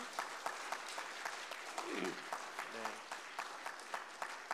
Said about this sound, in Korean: 박수 한 번만 부탁드리겠습니다